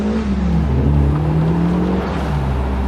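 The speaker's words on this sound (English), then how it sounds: "That noise coming from that 2-litre Ford engine is sublime." A Caterham Seven 420R sports car's 2-litre Ford engine revs loudly and steadily nearby, its pitch rising and falling through a deep, throaty drone.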